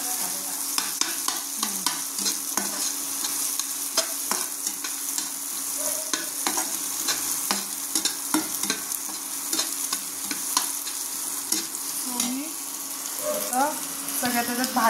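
Vegetables including tomato, grated carrot and cabbage stirred and mixed in a sizzling pan, with busy close scraping and clattering strokes over a steady fry, and faint voice traces underneath.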